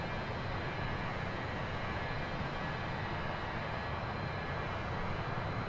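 Jet engines of an MD-80 airliner with a T-tail climb steeply on a light charter flight out of LAX, a steady, dense broadband roar that holds unchanged for the whole stretch with no talk.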